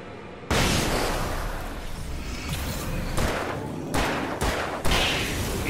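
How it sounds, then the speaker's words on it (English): A flashbang grenade goes off in the Alan Wake Remastered video game, a loud wideband burst followed by sustained crackling roar and further booming impacts, dense and continuous throughout. "flashbang."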